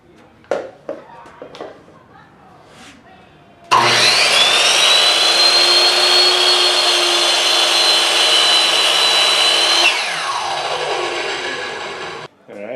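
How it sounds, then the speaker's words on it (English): Cherry wood pieces are cross-cut with a power saw: a few handling knocks, then a loud close motor whine for about six seconds that slows and winds down after the cut. "Here's my length right here, so I'm going to go ahead and cross-cut that"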